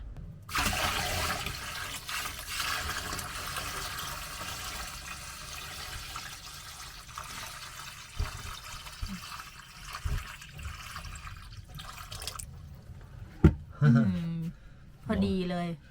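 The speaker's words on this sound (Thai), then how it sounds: "มันเรามีถังน้ำก็คือมาเติมไว้เลยค่ะ" Water pours steadily into a camping car's water tank, a loud continuous rushing stream lasting about twelve seconds before it stops, followed by a few brief knocks and someone talking.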